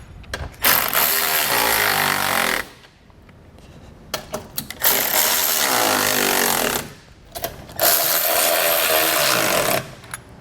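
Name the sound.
ratchet tightening bolts securing nerf bars to brackets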